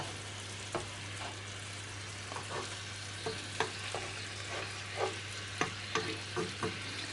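Honey mint lamb chops sizzle steadily in a hot pan, a constant frying hiss broken by sharp clicks and scrapes as they are stirred and turned, close and fairly quiet, with no talking.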